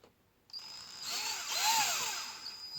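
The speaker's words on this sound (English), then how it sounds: "Start drilling, nice and slow." A power drill bores slowly through a rubber snowshoe into wood beneath, starting abruptly with a whining, grinding tone that swells and wavers, close and fairly loud with no talk.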